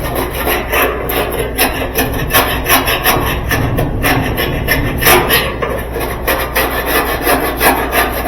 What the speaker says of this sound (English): Sand it real well.